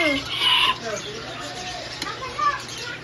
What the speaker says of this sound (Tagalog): May manok pala dito.